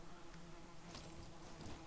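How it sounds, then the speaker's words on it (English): Bees buzz steadily at a beehive in the video game Valheim, a dense, droning swarm, a constant insect hum with no voices. "I did come up across this beehive here"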